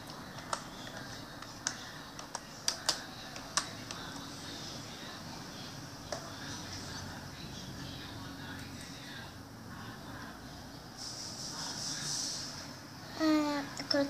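Typing on a computer keyboard, a few scattered, faint key taps early on, close but soft, under low background noise with murmured talk in places.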